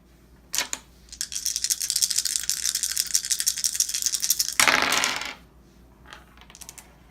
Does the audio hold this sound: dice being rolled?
yes